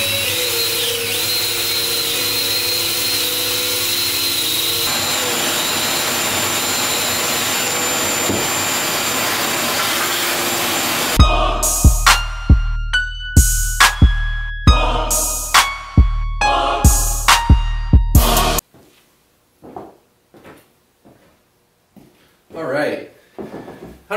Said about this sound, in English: wire brush here and my drill and just try and buff out any kind of rotting and just get rid of it